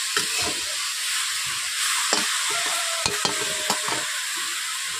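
Salt is stirred into pumpkin stalks in a pan for a mixed vegetable curry, with a soft continuous sizzle and hiss and a few sharp spoon scrapes and clicks against the pan.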